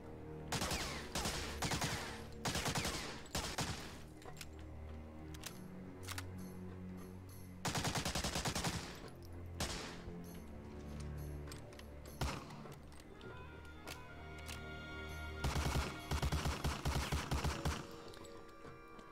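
Bursts of MP40 submachine gun fire in Medal of Honor: Allied Assault, with a weapons mod installed, come as several loud, rapid automatic strings separated by pauses and mechanical clicks of handling and reloading.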